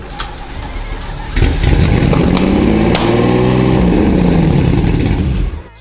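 A Lamborghini Murcielago engine cranks and catches, then runs loud and close at a rough idle with rising and falling revs during an injector test on a car under repair.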